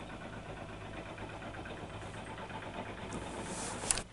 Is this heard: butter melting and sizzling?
no